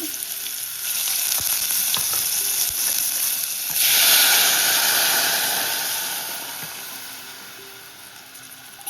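Kadhi tempering with green chili and ginger sizzles loudly in hot oil while being stirred, a steady frying hiss that surges midway and then slowly fades.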